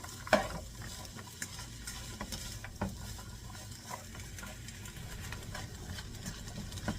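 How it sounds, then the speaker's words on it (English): Vegetables stirred in oil in a pan, with a soft continuous sizzle under scraping and patter of the utensil, plus a few sharper knocks against the pan. "So I'm going to continue to stir this because I wanted to get coated in the rest of the oil and everything to get combined."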